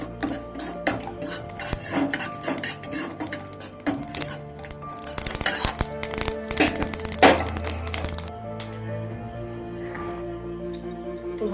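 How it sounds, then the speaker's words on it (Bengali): Whole cumin seeds and small cardamom pods dry-roasting in a hot pan, with busy clinking and scraping of a spoon against metal and seeds rattling, close and steady, with no talk. "এক চামচ গোটা জিরে দেব এটাকে একটু ভালো করে ভেজে নেব এলাচের সঙ্গে"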